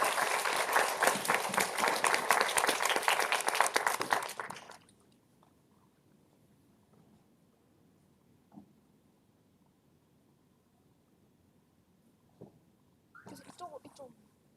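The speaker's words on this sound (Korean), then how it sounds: "큰 박수를 맞아주시기 바랍니다." Audience applause at an academic forum welcoming a professor to the podium, a strong burst of many hands clapping that fades out after about four seconds, leaving near silence with faint shuffling and a short bit of talk at the end.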